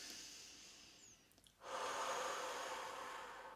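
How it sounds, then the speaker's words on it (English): One long, deep inhale through the nose swells after a brief pause and holds steady to the end, close and airy, part of a breathing exercise. "but then take a big deep breath"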